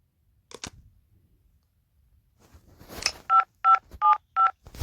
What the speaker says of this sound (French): Je vais appeler Adam pour... Enfin, Antoine.